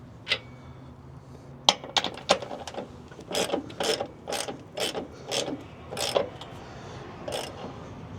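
A ratchet wrench clicks in rapid bursts as shock absorber bolts are tightened on a Peterbilt 389 truck, several close, sharp ratcheting runs separated by short pauses.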